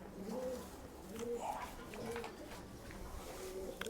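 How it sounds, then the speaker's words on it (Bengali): Andhara and Madrasi pigeons coo softly in repeated low, rolling phrases, faint and close, with quiet ambient noise and occasional voices around them. "আর এটা হচ্ছে ফিমেল পায়রাটা।"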